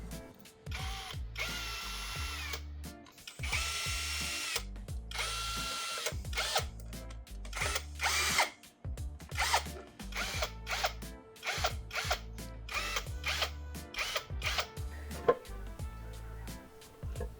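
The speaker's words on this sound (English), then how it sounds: "I have to remove the valve covers. They are held in place with these 6mm Allen screws." A power tool driving out the 6mm Allen screws on the valve cover of an Alfa Romeo 166 Busso turbo V6, giving repeated close, loud whirring bursts with ratcheting clicks between short pauses.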